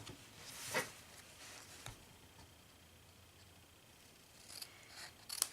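Scissors cut paper along score lines for a rounded-flap treat box, giving a few faint, sparse snips and rustles spread through quiet background.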